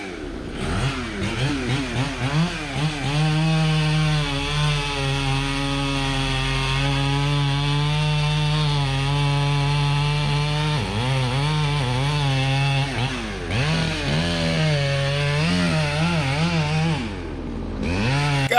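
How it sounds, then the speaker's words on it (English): Chainsaw running steadily and loud while cutting gum trees in a residential yard, the engine holding a high droning pitch with brief dips and revs around the middle and near the end. "Got a couple gum trees to cut out of his yard here."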